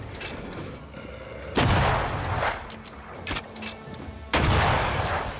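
Rifle fire in the video game Banishers: Ghosts of New Eden: two loud, heavy booming shots about three seconds apart, with smaller cracks and rumbling combat noise between them and no talking.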